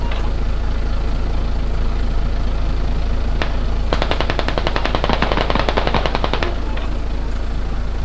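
Mounted machine gun firing in the military shooter game Squad, a sustained rapid burst of loud repeated shots over a steady engine hum, preceded by a single shot.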